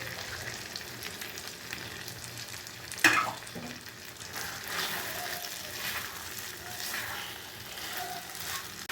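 Chilli beef frying in a pan as a cornflour and water slurry is poured in, a steady close sizzle with a brief sharp splash of liquid hitting the hot pan partway through, no talking.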